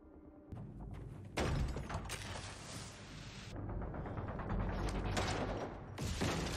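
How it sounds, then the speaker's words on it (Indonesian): A house explodes in a loud, sustained, rumbling blast that surges in after a short lead-in, then keeps roaring and crackling with debris-like bursts to the end. "Ya, rumah itu pun meledak"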